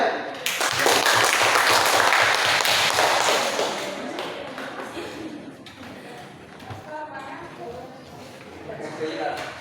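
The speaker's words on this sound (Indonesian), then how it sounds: "berikan aplaus untuk Olivia ya" Applause for a performer named Olivia rings out loud and dense at first, fading to scattered claps over several seconds while voices talk through it.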